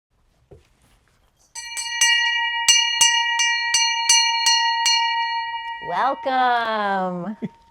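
A bell rings in a series of clear, bright strikes that ring on with sustained tones. A brief vocal sound follows at the end.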